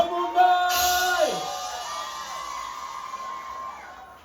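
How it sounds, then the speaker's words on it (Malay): An audience at a Bisapug rowing contest prize-giving cheers and whoops for a winner, a lively crowd swell over sustained musical tones that gradually settles. "tepukan kepada SDR Astiwa dari Kampung Mundai"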